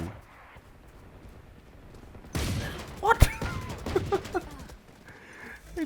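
Gunfire in the video game Valorant during an aim-training map: a loud broadband burst of shots with a sharp crack near the middle, followed by scattered quicker pops and game effects under quiet background sounds.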